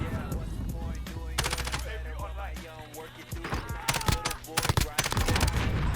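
An assault rifle fires in Call of Duty: Modern Warfare Search and Destroy, sharp rapid bursts and single shots close up amid clattering game effects, growing denser toward the end.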